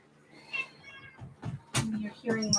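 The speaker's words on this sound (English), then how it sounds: "you're hearing my cat" A pet cat meows several times indoors, short soft cries at first and then a louder pair near the end, with a person talking quietly in between.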